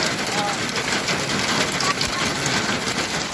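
Hail falls in Saudi Arabia as a loud, dense, continuous patter of ice striking surfaces, a steady broadband hiss with no breaks.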